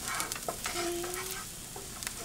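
Garlic sizzling as it browns in a hot pan, a steady close frying hiss with a few stirring scrapes and faint tonal squeaks on top, no voices.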